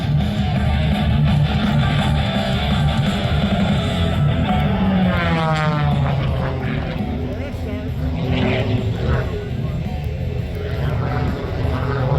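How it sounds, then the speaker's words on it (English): A Fury biplane performs aerobatics at an open house air show: a steady, droning propeller engine roars throughout, rising and falling in pitch as it passes, with an announcer talking over it. "Steven Covington in the Fury biplane."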